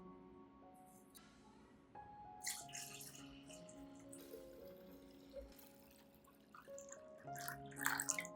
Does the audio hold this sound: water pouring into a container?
yes